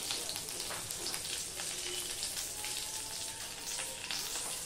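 Salt and a halved bay leaf sizzle in hot mustard oil, giving a steady, dense crackle and hiss with no voices.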